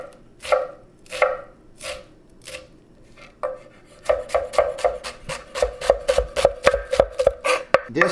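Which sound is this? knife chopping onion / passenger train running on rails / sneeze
knife chopping onion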